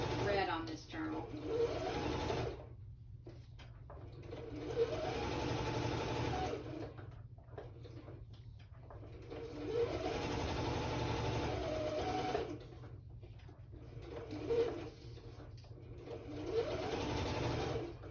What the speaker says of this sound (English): I'm gonna run to the machine again. I'm just gonna use a straight stitch